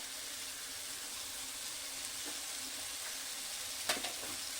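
Papaya laddu mixture with sugar, yellow colouring and cardamom cooks in a pan with a soft, steady sizzle, and a couple of spoon clacks stand out near the end.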